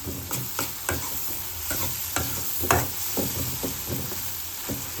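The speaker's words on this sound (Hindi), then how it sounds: "अब बढ़िया से इसमें नमक डाल देंगे और टमाटर को पूरा मिक्स होने देंगे इसी में" Chopped tomatoes with salt cooking in a pan for pav bhaji, loud close sizzling under brisk rhythmic stirring, the spoon scraping and clacking against the pan several times, with no speech.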